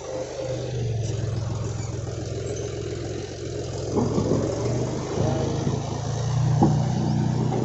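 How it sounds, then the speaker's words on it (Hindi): A John Deere 5310 tractor fitted with an Umiya loader runs steadily at a mill. Its diesel engine drones close by and rises slightly toward the end as it revs. "देख सकते हैं मिल से जा रहा है ट्रैक्टर बकेट भरने"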